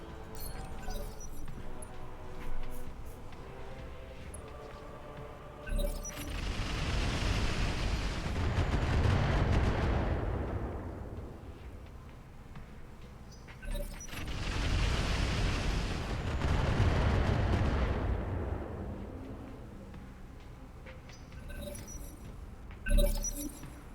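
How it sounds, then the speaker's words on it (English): LRM missile barrages in BattleTech with the Roguetech mod, two long, swelling waves of rushing, crackling impacts a few seconds apart, each fading out, with a sharp bang near the end. "That's a lot of LRMs that are just not connecting, which is great."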